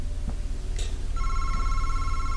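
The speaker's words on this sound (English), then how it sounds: "Phone's ringing." A telephone rings in the horror video game MADiSON, with a steady electronic trill that starts partway through and keeps going loud and close over a low background hum.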